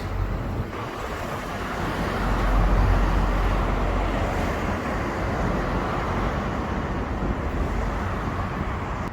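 Heavy lorries roll past in a convoy on a roadway by a bridge in Hull, a continuous broadband roar that swells and lingers with wind buffeting the microphone.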